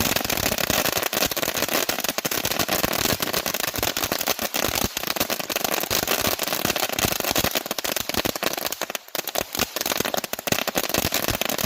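Skyking fireworks set off in a Ghosted display go off continuously at close range, very loud, with dense crackling bursts and sharp bangs packed together without a break.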